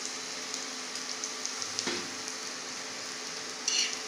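Okra fries on an iron tawa with a soft, continuous sizzle and a few quiet stirring scrapes, faint and close, with no voices.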